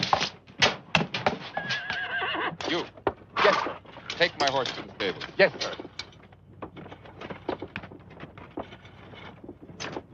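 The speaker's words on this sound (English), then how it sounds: "Take my horse to the stable." A horse at a stable whinnies loudly and hooves clip-clop in uneven bursts close by, mixed with thumps and clatter while people talk.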